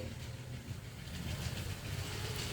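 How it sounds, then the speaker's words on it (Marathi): A steady rumbling metro train runs continuously, a low mechanical drone with faint rattling, fairly close and loud throughout, with no voices. "मेट्रो फिरतीये"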